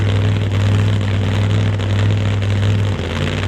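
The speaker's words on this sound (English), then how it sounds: "that Boss Hemi has a distinctly different engine sound from any other car on the property" A Boss Hemi drag race car engine drones loud and steady at a drag strip during testing, a thick low-pitched rumble holding constant throughout.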